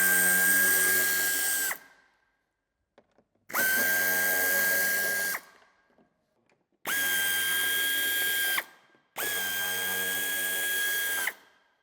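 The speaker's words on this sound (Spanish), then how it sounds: "Retiraremos los tornillos con cabeza Phillips." A cordless power drill whirs in four sustained bursts separated by short pauses, backing out Phillips screws on a 2019 Mazda CX-30 during hitch installation; loud and close, with no talking.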